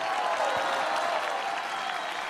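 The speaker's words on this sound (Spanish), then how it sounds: "Aplausos para la pareja número 1." Studio audience applauds and cheers for the first couple at a televised charity dance contest, a steady, dense wash of clapping with no pauses across the whole stretch.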